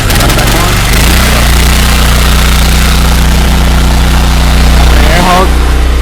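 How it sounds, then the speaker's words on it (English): An All Surface Cleaner carpet cleaning machine's gas engine starts and then runs at a steady, loud drone alone, with a brief sputter of change near the end. "Go ahead and start the engine."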